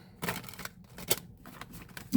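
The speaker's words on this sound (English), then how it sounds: "that was not a good shuffle" Rapid riffling and flicking of a worn tarot deck in several short bursts, quiet and close, with brief pauses between.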